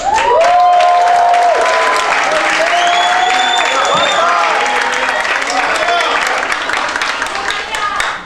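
A big audience applauds the Spanish Minister of Social Affairs at an awards ceremony, loud continuous clapping with crowd voices and cheering mixed in, sustained at full level throughout.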